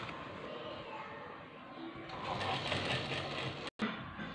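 A sewing machine runs steadily while stitching a seam on a salwar, a close, continuous whirring hum that briefly stops near the end, with quiet speech in the background.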